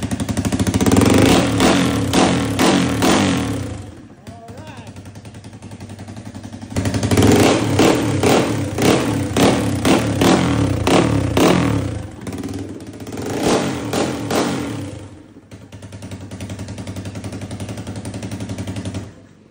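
A Honda RS150 motorcycle engine bored out to 200cc revs hard in close, loud bursts, with three long stretches of throttle broken by brief drops to idle.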